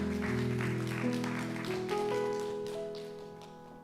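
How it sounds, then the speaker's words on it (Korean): Church congregation at a wedding blessing service applauds in a steady, dense patter, with sustained organ or keyboard tones underneath and the clapping gradually fading. "우리 다시 한번 축복의 박수하도록 하겠습니다."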